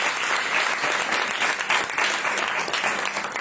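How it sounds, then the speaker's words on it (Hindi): A church congregation claps loudly during a sermon, giving a dense, energetic burst of applause that stays strong for a few seconds. "यीशु मसीह के लिए एक दफा जोरदार ताली।"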